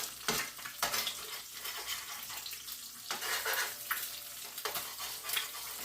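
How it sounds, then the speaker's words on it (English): Eggs frying in bacon grease at a campsite, hot grease scooped and swished over the whites, giving a steady close sizzle and crackle with scraping spoon strokes and a few light clinks against the pan. "I just take the bacon grease and like swish it over the top because I don't like the runny whites"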